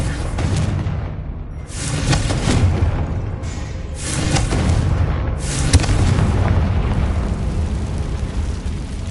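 Blasting Confringo spell explosions in the game Hogwarts Legacy: a continuous series of heavy booming bursts with rumbling low end, overlapping without pause, loud and close.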